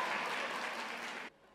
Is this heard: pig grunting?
no